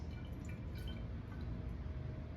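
Water poured onto vegetable oil in a container for a homemade lava lamp gives a continuous, close liquid rush and splash with faint dripping, steady throughout and without talk.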